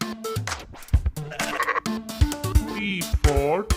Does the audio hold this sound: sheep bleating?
yes